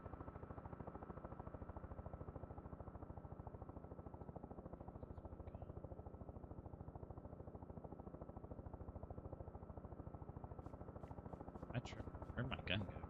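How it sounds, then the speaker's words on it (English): A helicopter circles overhead in the video game DayZ, its rotor producing a steady, rapid low chopping pulse that stays constant and fairly faint, with a few brief game sounds near the end. "I hear that freaking helicopter above too."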